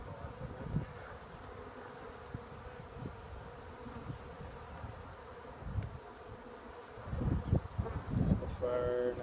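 Honey bees buzz faintly and steadily at an opened hive during a late winter inspection, with handling bumps and rustles over the hum that grow louder toward the end.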